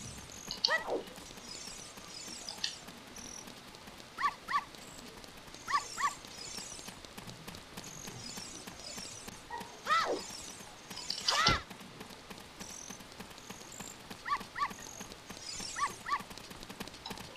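A white dog barks in Zelda Ocarina of Time, short sharp yelps scattered among chiming game effects and clip-clopping hoof-like footsteps, with no talking.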